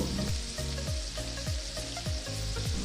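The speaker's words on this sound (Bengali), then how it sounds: "মশলা কষে তেল সেপারেট হতে শুরু করেছে" Spice paste and potatoes sizzle steadily in hot oil for an aloo paneer dalna, with rhythmic scraping strokes of a spatula stirring the pan, close and continuous.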